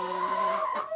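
A goose being held at a backyard bird coop gives a loud, close, drawn-out honking call with a harsh nasal tone, then a shorter second call.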